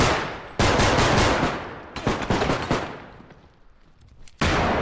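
Heavy automatic gunfire in a realistic shooter video game rattles in long, loud bursts, first sustained, then choppier shots that trail off before a final burst kicks in, with no talking.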